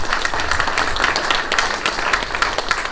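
An audience at a special interview event gives a round of applause. Dense, steady clapping fills the room throughout, with no talking over it.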